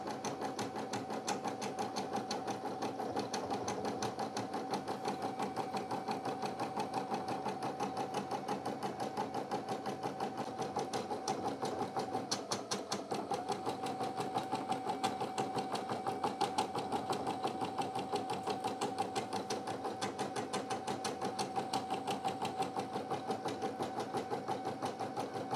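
A Brother PE900 embroidery machine stitches a jump stitch trim, a steady, rapid needle chatter over a continuous motor hum, running evenly and alone throughout.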